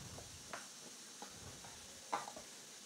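A spoon stirs damp couscous in a pot, giving a few faint, sparse scraping taps and soft rustles over a quiet background.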